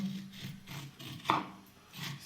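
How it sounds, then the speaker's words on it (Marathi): A metal spoon scrapes the gel out of a cut aloe vera leaf, giving several short, close rasping strokes with one sharper scrape near the middle. "ह्यातला गर काढायचा आहे आपल्याला चमचा घ्यायचा आणि चमच्याने डायरेक्टच असं करायचं"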